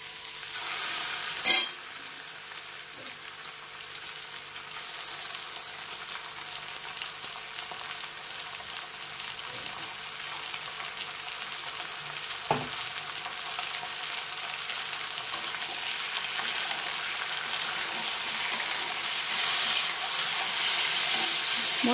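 Unripe jackfruit frying and being stirred in a pan, a steady close sizzle with faint scraping and a few sharp clinks of the spoon against the pan.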